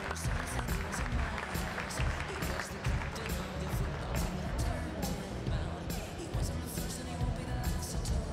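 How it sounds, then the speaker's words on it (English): Crowd applause fills a swimming venue at a national championship after a women's 100 meter freestyle B-final, a steady, dense wash of clapping with thuds and a low rumble running throughout. "How about a round of applause there for your B-final winner there, Leah Neal."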